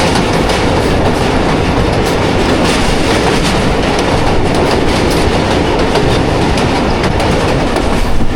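The Jaffar Express crosses a bridge over the Haro River on its run from Attock to Rawalpindi. The wheels clatter loudly and steadily in a continuous close rumble, with no voices.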